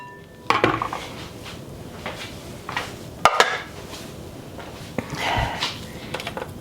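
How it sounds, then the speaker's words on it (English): A utensil scrapes sauerkraut off a lid into a bowl, giving a series of short scrapes and clinks with a few sharper knocks, close and moderately loud, and no one speaks. "I'm just going to scrape the lid down straight into a bowl"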